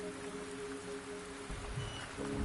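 Rain falls in the video game Wuthering Waves as a soft, steady hiss, with faint sustained tones held beneath it throughout.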